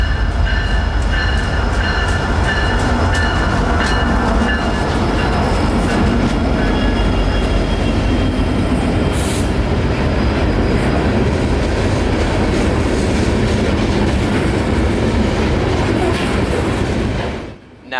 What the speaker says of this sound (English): this may actually be a Lakeland coal train, considering the type of stainless steel looking cars that this train has